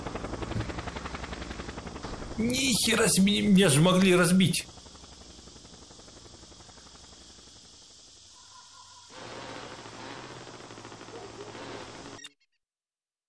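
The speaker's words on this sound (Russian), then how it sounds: "А, мне ещё вертолётом доставляют." A helicopter in the video game Just Cause gives off a steady, droning engine and rotor noise that fills the scene. Someone talks over it, with a louder burst of screeching game sound early on.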